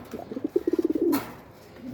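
High-flyer pigeons at a farm cooing nearby, a quick run of soft, rhythmic coos ending in a drawn-out note, close and alone.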